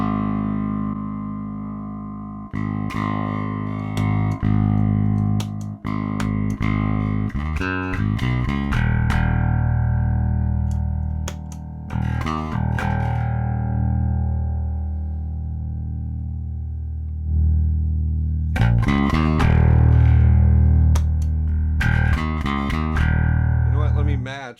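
Bass guitar through a Suncoast Nanolab bass preamp on channel 1, boost off and drive on, playing deep, thick sustained notes and plucked runs, loud and close, with brief sharp attacks between held tones.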